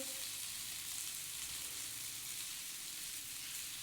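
Potato and poppy seeds fry in hot oil while cooking aloo posto, giving a steady, dense sizzle that runs unbroken and fairly close throughout, with faint stirring scrapes underneath and no talking.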